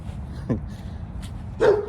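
An off-leash dog gives two short barks, a quick yip and then a louder bark a second later, close by outdoors.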